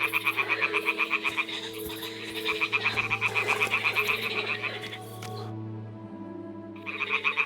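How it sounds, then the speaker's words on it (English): Toads croak in Kingdom Come: Deliverance 2, rapid rhythmic trilling bursts repeating steadily over a low ambient hum, pausing briefly near the end before starting up again. "Ah, the toads are croaking here."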